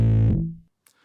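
Bass guitar played through an MXR M287 Sub Octave Bass Fuzz pedal on its bright, aggressive red setting: one loud, buzzy distorted note that decays over about half a second, then a faint click and brief hiss.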